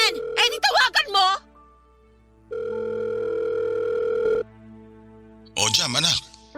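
A steady electronic phone tone drones for about two seconds during an outgoing call to a father, with voices talking briefly before and after it.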